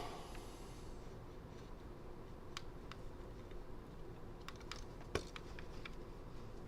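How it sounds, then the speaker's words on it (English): Scattered keystrokes tap on a computer keyboard in quiet, irregular bursts over a steady low hum, fairly faint and unaccompanied by speech. "It's getting hard to type while you're driving."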